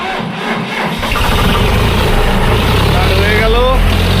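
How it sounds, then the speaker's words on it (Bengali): A used tractor at a second-hand showroom in Dhupguri, West Bengal, cranks and starts, then settles into a loud, close, throbbing diesel idle, with someone talking over the engine. "তো গাড়িটা একটু স্টার্ট দিয়ে সাউন্ডটা শোনানো যাবে?"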